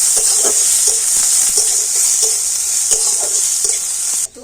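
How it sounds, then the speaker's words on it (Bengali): Finely chopped onion and garlic frying in a pan for a Bengali fish curry, a loud, steady hiss of hot oil with rhythmic stirring scrapes every half second or so, close up and without talk. "এবার আমি রসুন আর পেঁয়াজটা একটু লাল করে ভেজে নেবো"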